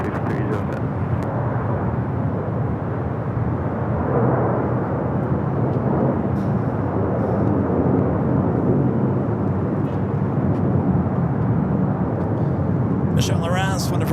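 SkyWest flight 5307 lands on runway 24 right at LAX, its engines a steady, loud broadband rumble throughout, with faint radio chatter breaking in near the end.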